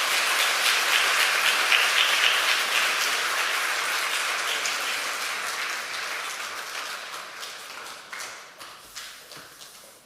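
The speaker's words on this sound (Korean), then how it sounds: "자, 여러분 박수 부탁드립니다." A large church assembly at a general meeting applauds loudly, a thick wall of clapping that starts strong and gradually thins and fades over about ten seconds, a few scattered claps lingering at the end.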